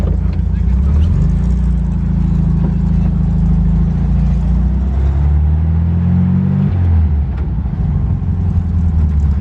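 A 1972 Volkswagen Thing engine runs loud and close for the whole stretch, its steady rumble rising and falling in pitch as it revs up through the gears with distinct shifts between them.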